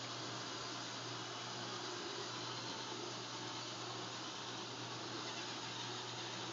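A Roomba robot vacuum cleaner runs indoors with a steady, even whirring drone at moderate level, unbroken for several seconds and without anyone talking.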